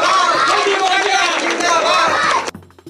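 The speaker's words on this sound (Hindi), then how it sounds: "ताली बजा दो चलो जोर से" Crowd noise at a village election rally in a Chhattisgarhi comedy sketch, dense cheering and clapping from an audience holding steady for about two and a half seconds, then cutting off abruptly to near silence.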